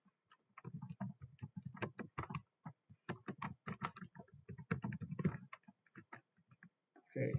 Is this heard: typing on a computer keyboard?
yes